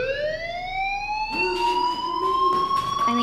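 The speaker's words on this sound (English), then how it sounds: "Do you hear that fire alarm? That means you should be outside." A fire alarm in the video game Life Is Strange rings loudly and steadily with a rising wail, joined partway by repeating pulsed tones, with no talk over it.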